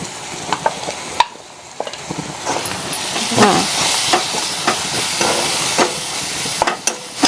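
Red chili powder, coriander powder and turmeric fry and sizzle in a pan for a Marathi bharangi vegetable dish. A steady hiss runs throughout, broken by repeated scraping stir strokes and clinks of the spoon, with no talking.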